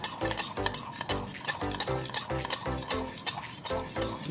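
A spoon stirs yogurt into spice paste for Bengali steamed ilish fish, scraping and clinking against the bowl in a quick, regular rhythm of strokes, close and fairly loud, with no talking.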